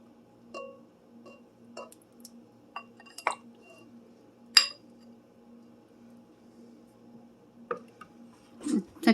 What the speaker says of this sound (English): We're going to put some right into the bowl here.